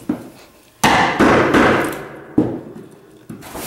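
A saw cuts through 3/4 inch wooden floor decking on a new 2014 South Bay pontoon boat, loud harsh bursts of cutting noise stopping and starting several times, close and with no talk.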